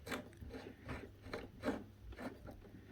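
Burnt-down rubber being scraped out of the V-grooves of a pulley on a DeWalt DW733 thickness planer, heard as repeated rasping, filing strokes in an uneven rhythm, close and fairly quiet.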